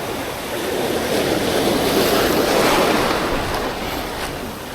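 Large ocean waves break on the shore in strong wind during bad weather, a loud continuous roar of surf that swells and fades, heavy wind buffeting the microphone, with no voices.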